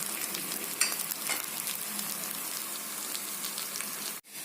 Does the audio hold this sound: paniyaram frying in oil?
yes